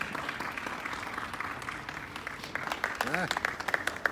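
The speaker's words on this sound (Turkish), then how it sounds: "Beni alkışlıyorlar." Applause from a studio audience on a live TV set, a steady dense patter of clapping throughout, with a voice briefly speaking over it near the end.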